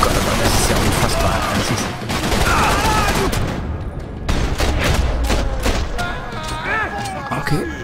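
Rapid bursts of gunfire in the shooter game Max Payne 3, dense overlapping shots and blasts filling the whole stretch, loud and close, with game sounds and a voice mixed in.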